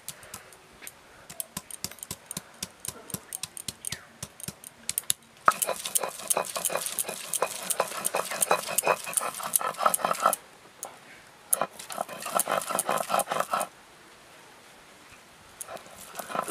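Ginger, cauliflower and spices ground together on a stone, the tough ginger crushed first, giving rapid rhythmic scraping and knocking strokes, with dense grinding bursts broken by short pauses.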